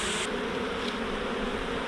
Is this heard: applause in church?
no